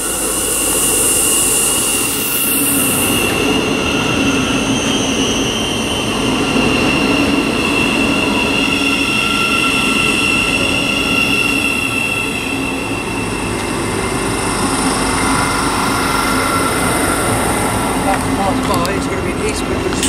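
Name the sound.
Thameslink Class 700 train arriving at Harlington station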